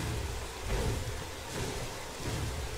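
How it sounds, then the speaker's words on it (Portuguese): Thunder and rain in a dinosaur video game, a continuous broad hiss of downpour with deep rolling rumbles swelling in waves, steady and fairly soft, no voices. "tá dando cada trovejada, né? Da chuva, né, galera, que foi adicionada aí no jogo."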